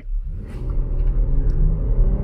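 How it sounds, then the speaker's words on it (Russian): A Jeep Grand Cherokee Trailhawk engine rumbles low and steady, pulling away from a standstill and gathering speed, with a deep continuous drone throughout. "И срывается поинтереснее тачка, и звук совсем другой стал, и цифры побежали."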